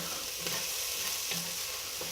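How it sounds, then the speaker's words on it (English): Diced onions frying in a pan, giving a soft, even sizzle that runs the whole way through at low volume, with a few faint clinks and stirs. "We're going to fry them up until they're nice and softened."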